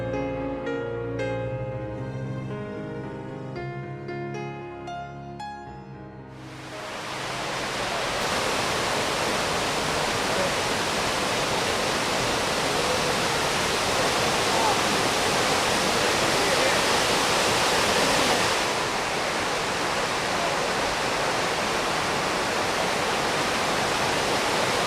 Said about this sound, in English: This behind me is the River of Dan, one of the main headwaters of the Jordan River